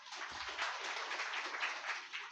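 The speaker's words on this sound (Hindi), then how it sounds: "धड़ाधड़ ताली बजा दो" An audience at a Devi Bhagavat religious discourse breaks into steady, brisk hand clapping, a dense patter of many hands lasting a couple of seconds at moderate distance.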